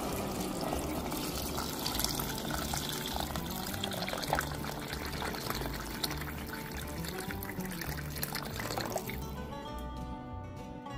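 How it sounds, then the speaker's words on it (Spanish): Water pours from a tap into a cooking pot over diced potatoes and onion for potato soup, a continuous gurgling splash that rises in pitch as the pot fills, steady and close. "Y vamos a agregar agua suficiente para cubrir todas las papas."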